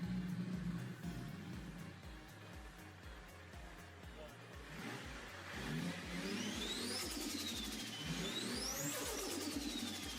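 A Nissan Skyline R34 engine revs loudly, played back, with a rough mid-pitched idle that climbs into two rising, sweeping revs near the end, under a faint background voice.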